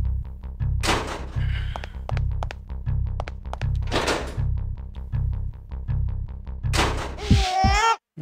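A grenade launcher fires in the video game Parasite Eve 2, with three loud, spaced blasts over a steady pulse of low, thumping background beats.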